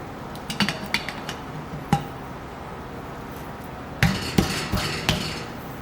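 A bearing tapped into a Dana 20 transfer case housing on a 1969 Ford Bronco: scattered light metallic taps and clinks, a few isolated strikes then a denser cluster of several close raps, fairly quiet.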